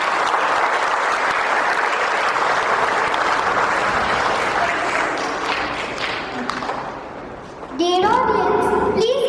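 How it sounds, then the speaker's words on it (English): Audience at a school investiture ceremony applauds and cheers steadily for newly appointed council members, a dense wash of clapping that dips briefly before a voice starts speaking over the crowd near the end. "Dear audience, please keep cheering for the newly appointed council members."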